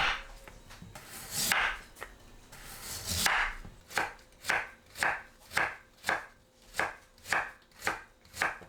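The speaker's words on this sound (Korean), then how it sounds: "무를 채 썰어주세요." A knife cuts radish into thin strips on a board, first in quick scraping bursts, then in a steady run of even, close, crisp chops. No speech is heard.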